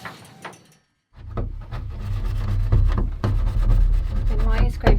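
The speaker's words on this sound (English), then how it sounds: "Why are you scraping the paint off that I just put on?" A scraper rasps paint off bare van metal to make an electrical ground, in short uneven scrapes and rubs close by, with a steady low hum underneath and a brief pause early on.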